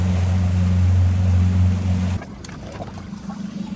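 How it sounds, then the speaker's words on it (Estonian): A motorboat engine drones steadily with a strong low hum, then cuts off abruptly, leaving quieter lapping water and faint ambient noise near Stromboli. "Davai, lähme vaatame Kröösuse paati"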